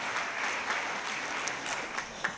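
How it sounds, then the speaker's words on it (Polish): Lively applause at a youth awards gala for a primary school student, many hands clapping in a continuous wash with a few sharper individual claps standing out. "Wielkie brawa także dla Oliwii."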